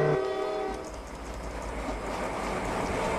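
Train rolling along in Roblox, a brief horn-like tone at the start giving way to a steady rumbling wash of rail noise, fairly loud and without speech.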